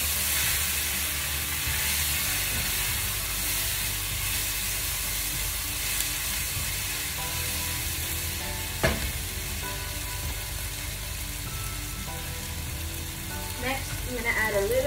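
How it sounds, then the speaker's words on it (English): Chilli soya being stirred with black pepper and salt in a frying pan, Indo-Chinese vegan style, a continuous close sizzle and hiss with occasional spatula scrapes and a sharp knock against the pan. "then some black pepper. And mix it up with everything."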